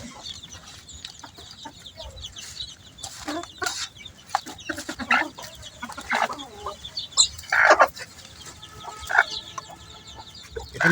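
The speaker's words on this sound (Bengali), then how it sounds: "দেখেন ভিজা খাবারগুলা দিলে মুরগি কিভাবে খায়" Farm chickens clucking and squawking while they peck at wet mash feed, a busy overlapping flock of calls and short cries close by, with no talking.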